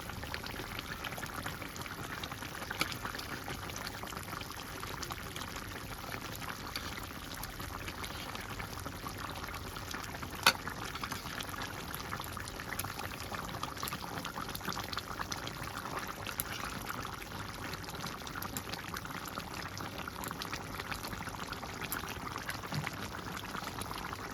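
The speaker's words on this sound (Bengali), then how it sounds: "এবারে তরকারি ফুটে গেছে।" Bengali fish curry with ridge gourd, potato and rohu-type pona fish simmers in a pot, giving a continuous soft bubbling and seething that stays even and fairly faint throughout, with no voices.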